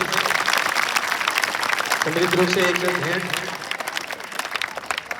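At a school farewell in Rajasthan, an audience claps steadily throughout while someone speaks over the applause on a microphone.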